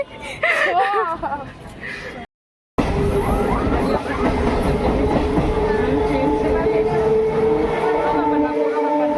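A train passes with a continuous rolling rumble and rattling wheels after a brief cut, while people talk nearby at the start.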